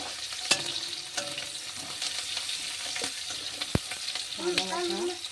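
Onions hitting hot oil with a bay leaf in a pan, crackling and sizzling close by while a spoon stirs and scrapes with occasional clinks.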